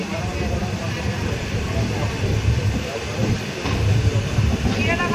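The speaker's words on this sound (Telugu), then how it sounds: "మన ట్రైన్ వచ్చి ప్లాట్ఫామ్ నెంబర్ 3 మీదకి అయితే వెళ్తుంది" The Kondaveedu Express rumbles and rattles as it rolls into platform 3 at Gudivada Junction, a continuous heavy low clatter close by, with voices and station noise mixed in.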